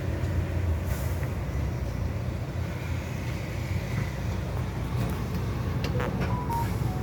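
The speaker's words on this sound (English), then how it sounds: "This is Wimbledon bus station" Busy Wimbledon bus station with buses idling and moving, a steady engine rumble throughout, a hiss of air brakes and brief high beeps near the end, no talking.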